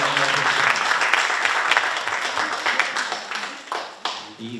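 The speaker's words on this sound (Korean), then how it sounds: "큰 박수로 모시겠습니다" An audience at an evening lecture on the Korean economy applauds to welcome the speaker; dense clapping that thins out and fades toward the end.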